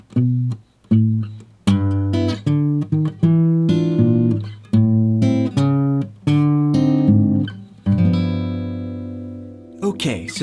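Fingerstyle jazz blues guitar plays a closing phrase, plucked chords over a walking bassline in a steady rhythm of separate, ringing notes. The run ends with a final sustained chord that fades out, played alone without talking.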